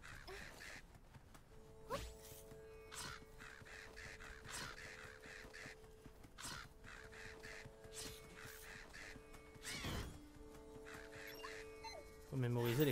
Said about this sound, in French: Ce monstre aux ailes d'oiseau guette ses proies depuis les hauteurs.